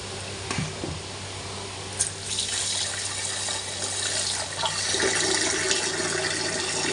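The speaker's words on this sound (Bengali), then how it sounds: "এগুলো এখন ফেলে দেব ফেলে দিয়ে আবার তো জল নিব" Milky-white water left from washing flour dough is poured away and fresh water is run in, giving a steady splashing and running-water wash with a few sharper splashes, fairly soft and close.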